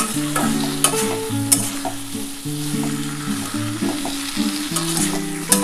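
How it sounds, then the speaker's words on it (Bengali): Potato and pointed gourd curry being sautéed in a pan, with a steady close sizzle and repeated stirring scrapes of the spatula, while soft music plays underneath. "খুব ভালোভাবে কষিয়ে নিই বন্ধুরা"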